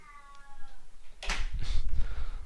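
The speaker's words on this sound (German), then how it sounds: "wer es gehört hat, die Katze hat Hunger" A hungry house cat meows once, a clear tonal cry near the start, followed by louder thumping and rustling movement close by.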